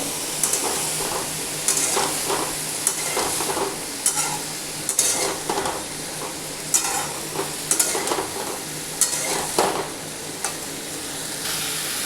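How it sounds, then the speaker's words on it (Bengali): Loud continuous sizzling of a tomato frying in a pan with frequent scraping and stirring strokes in an uneven rhythm, close up and without talk. "আগে এটা খুব ভালো করে ভেজে নেব।"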